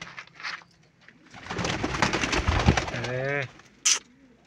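Pigeons coo in a loft holding eggs and chicks, with a burst of cooing and rustling in the middle, a short voiced exclamation and a brief sharp sound near the end.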